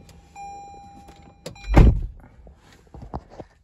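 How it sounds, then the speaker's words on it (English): A 2021 Toyota Prius car door swings shut with a single solid thunk near the middle, close and clear, set among faint clicks and quiet cabin sounds. "Let's close the door."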